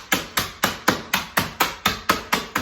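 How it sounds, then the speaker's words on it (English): A meat mallet's flat side pounds candy canes: eleven evenly spaced, sharp pounding thuds strike in a quick steady rhythm, each a crisp knock with a short ringing decay. "I'm going to pound away on one side"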